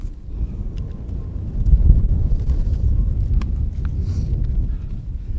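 Strong wind buffets the microphone on the winter summit of St Sunday Crag in the Lake District, a continuous low rumbling roar that swells and eases, close and loud, with no talking.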